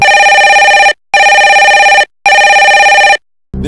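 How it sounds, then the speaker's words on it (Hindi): A telephone rings for a video call on a studio quiz show, three loud electronic ring bursts separated by short gaps, with a fourth beginning at the end. "फोन लगाया जा कंप्यूटर जी."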